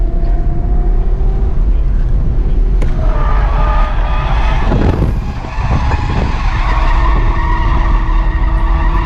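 Tires squealing as a 150-horsepower car drifts, a loud sustained screech with engine roar, swelling and shifting in pitch across the whole stretch.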